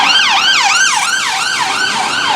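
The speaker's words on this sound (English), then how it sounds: "Every time we hear an ambulance" Ambulance siren wailing in a smooth rising-and-falling sweep, repeating about every half second, loud and close, with no voices over it.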